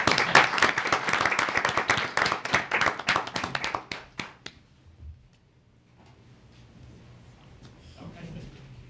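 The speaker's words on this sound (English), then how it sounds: "let's give them a round of applause for their leadership." Audience applause at a Gaithersburg Mayor and Council meeting, a dense burst of many clapping hands that thins out and stops, followed by quiet room noise.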